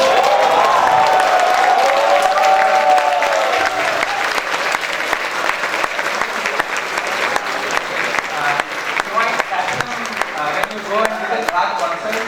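An audience at a Toastmasters chai-and-conversation event applauds a professor welcoming him on stage, loud sustained clapping from a crowd with some cheering and a voice speaking over it early on.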